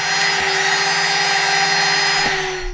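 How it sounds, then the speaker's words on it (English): CNC spindle motor spinning under VFD control, its speed set by hand with a potentiometer: a steady, loud electric whine with a constant tonal hum and a high buzz, holding even for nearly three seconds without talk. "I'm now testing the spindle using the toggle switch to manually control the spindle RPM with a potentiometer"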